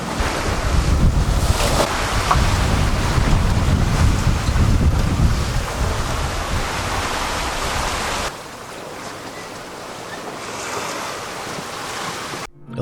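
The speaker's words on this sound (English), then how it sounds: "The waves are still where they are, they're still big." Big ocean waves surge and roar around a sailboat at sea with heavy wind buffeting, loud and close at first, then easing to a lower rushing wash.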